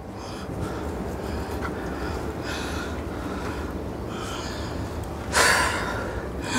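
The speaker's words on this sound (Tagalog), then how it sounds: "Hingal po kasi ako ano, yung dahil sa aking paglalakad." Heavy, steady panting from someone out of breath after walking, close breaths repeating throughout with a louder gasp near the end over background noise.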